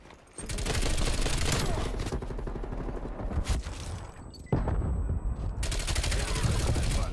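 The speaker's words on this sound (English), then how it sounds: "Oh, that's a sentry gun." A sentry gun fires in the video game Call of Duty Cold War, rapid automatic bursts with a brief break, close and loud, with a voice talking in places.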